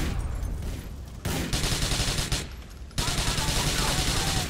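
Rapid, loud gunfire in the Grand Theft Auto 4 video game: dense bursts of shots broken by brief lulls, close and harsh, with a voice faintly under it.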